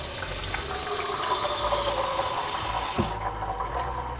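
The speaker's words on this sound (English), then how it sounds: "Let's pour the water inside." Tap water pours steadily into a Waterdrop Chubby filter pitcher, a continuous close splashing rush that cuts off near the end with a faint clunk.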